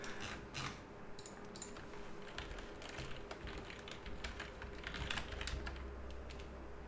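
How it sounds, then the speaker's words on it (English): Aggressive, fast typing on a computer keyboard: dense, steady clatter of hard keystrokes running the whole time at close range over a low background hum. "Aggressive keyboard typing."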